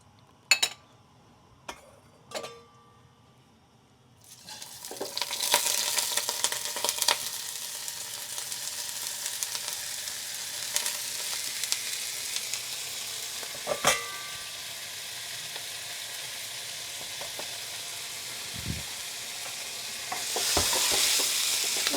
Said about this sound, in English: So just fry for, you know, 3 minutes, 4 minutes.